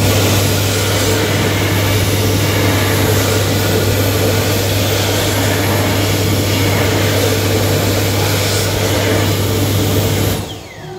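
A Dyson Airblade DB hand dryer blasts a loud, steady roar of high-speed air for about ten seconds, then cuts off and winds down at the very end.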